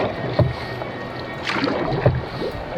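A canoe is paddled on the North Saskatchewan River, with paddles splashing and knocking now and then over a steady rush of water and wind, close by.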